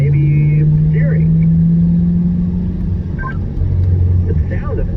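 A Chevrolet Corvette C8 in track mode at Spring Mountain race track gives a loud, steady engine drone that dips and shifts pitch as it changes speed, with people talking over it.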